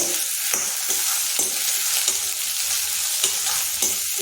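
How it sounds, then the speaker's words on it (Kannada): Ridge gourd and leafy greens fry in a pan, a continuous loud sizzle broken by repeated scraping strokes of a spatula at an uneven rhythm, close by with no voices. "ಇದನ್ನೆಲ್ಲ ಒಂದಿಷ್ಟು ಹುರ್ಕೊಳ್ಳೋಣ."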